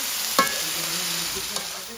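Food sizzles steadily in very hot oil, a continuous close hiss with a couple of brief clinks of a utensil stirring in the pan.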